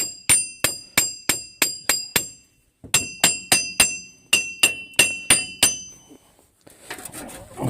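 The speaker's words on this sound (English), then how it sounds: "I have to take the hammer and tap this a little bit" Metal hammer strikes tapping at a wheel bearing on a Chevy Trailblazer front hub, a rapid series of sharp ringing clinks in two bursts with a short pause between, loud and close, followed by fainter shuffling.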